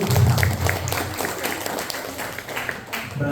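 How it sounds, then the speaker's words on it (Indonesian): Audience applause at an indoor community gathering in Bogor, a steady, fairly close wash of many hands clapping for about three seconds, with a murmur of voices at the start. "beri tepuk tangan untuk Bapak"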